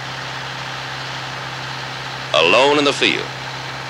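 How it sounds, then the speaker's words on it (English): A Case four-wheel drive tractor engine runs steadily at a low idle-like drone throughout, with a voice speaking over the final stretch. "man and his four-wheel drive tractor"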